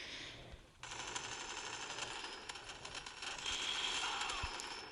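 Automatic MG4 machine gun fire in the Bullet Force shooter game, a dense rapid rattle of shots running almost continuously after a brief quiet opening, loud and close throughout.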